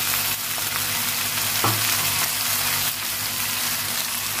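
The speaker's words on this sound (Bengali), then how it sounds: "ভালো করে ভেজে নেব" Okra and potatoes fry with salt in a pan, giving a loud, steady sizzle throughout with a brief scraping stir partway through; no talking.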